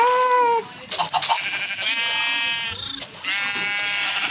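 Several sheep bleat in quick succession, wavering calls close by, one after another with little pause between them.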